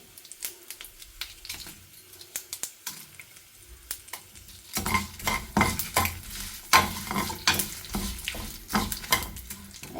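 Urad dal and dried red chillies frying in a pan for koottu curry sizzle and crackle, with rhythmic scraping stirs that grow louder and busier halfway through.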